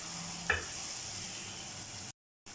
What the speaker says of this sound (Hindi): चिकन की थोड़ी सी भुनाई करेंगे कि इसका कलर जो है वो चेंज हो जाए